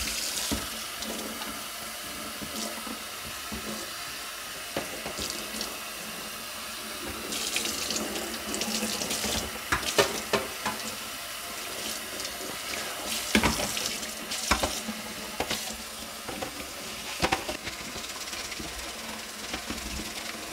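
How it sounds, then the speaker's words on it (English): Hot tap water runs steadily from a faucet over a metal stove hood filter in a sink, a continuous splashing hiss with occasional louder spatters as the stream hits the mesh. "I'm gonna run this under hot water and see what happens"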